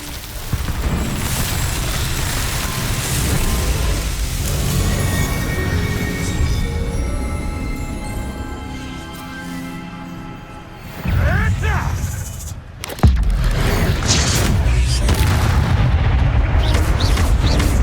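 Confringo blasting curses go off in Hogwarts Legacy amid a loud battle, with booming impacts and a sharp crack-like blast standing out over dense game noise and music.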